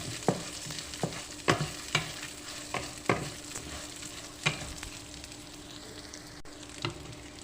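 Lentils roasting in a pan until golden brown, dry rustling stirred with a spoon that strikes the pan in irregular taps roughly every half second, over a steady low sizzle, near and quiet with no talk.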